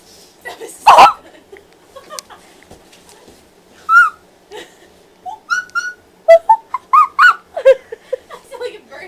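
A person makes a series of short, high whistled chirps and squeaks imitating a bird call, in uneven bursts with pauses between.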